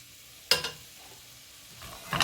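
Onions and celery sautéing in a pot for beef stew: two brief bursts of sizzling and stirring, at the start and near the end, separated by a quiet low simmer.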